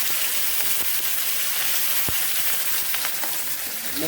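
Fennel seeds, green chili and curry leaves sizzle steadily in hot oil for a Tamil soya gravy tempering, a dense continuous crackle with a few sharper pops, close and alone without talk.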